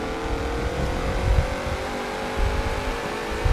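Bentley race car engine in a racing video game, a loud, steady drone with rough surges in revs, continuous throughout with no talk over it.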